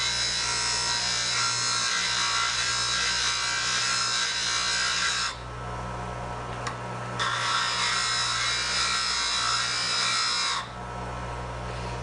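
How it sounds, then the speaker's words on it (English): A woodturning tool being sharpened against a spinning grinding wheel in a jig, a steady broadband grinding hiss with a constant low motor hum, pausing briefly twice as the tool lifts off. "So now you just put the tool up against the wheel."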